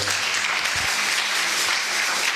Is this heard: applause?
yes